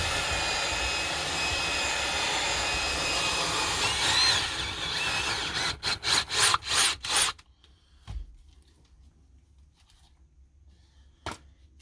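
Rough, steady scrubbing of a stiff bristle brush on a car's carpet, then a run of quick, rhythmic strokes before it falls quiet.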